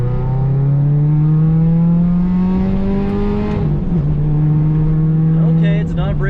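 A JDM Subaru Legacy GT with an EJ20Y turbo engine accelerates hard in second gear, a loud steady rising engine drone that climbs in pitch, with a brief dip near the middle and a shift or lift at the end.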